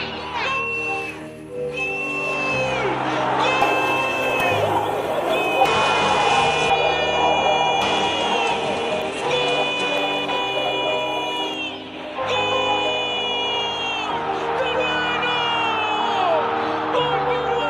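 A football crowd at a World Cup qualifier between Peru and Ecuador roars after a goal, a loud sustained mass of cheering, whoops and shouts that swells and dips, with a commentator's voice running through it.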